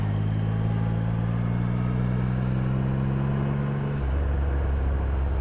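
A Triumph Rocket III motorcycle's big engine pulling hard, a loud steady drone with rising tones from the air intake induction, then shifting to a deeper rumble near the end, heard continuously with wind noise.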